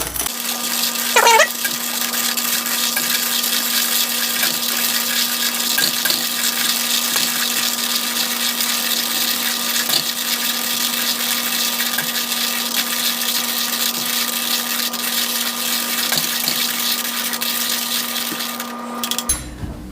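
A coffee grinder grinds beans for cold brew in a steady, close, loud motorized whir with a constant hum, running unbroken for nearly twenty seconds before cutting off abruptly at the end.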